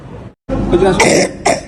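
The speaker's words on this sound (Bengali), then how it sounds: "বুঝতেই পাচ্ছেন যে এটা কিন্তু বুকের মধ্যে কপটা জমে আছে কিন্তু ড্রাই কপ নয়" A child's wet, congested chest cough, two or three loud rattling bursts close by after a short pause, with phlegm audible in each.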